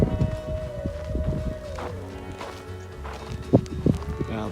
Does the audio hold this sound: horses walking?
yes